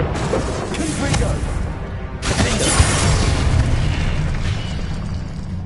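A Confringo spell explodes in Hogwarts Legacy as a loud, sustained fiery boom. A brief gap is followed by a second, longer rumbling burst.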